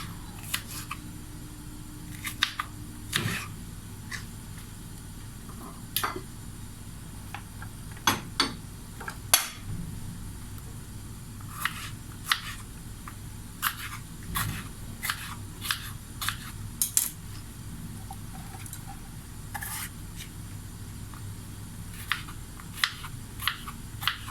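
Sparse, irregular knife taps chopping bell peppers on a cutting board, light and close, with quiet gaps between chops and no talking.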